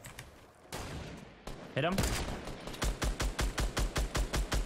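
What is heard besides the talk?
gunfire from Fortnite Battle Royale video game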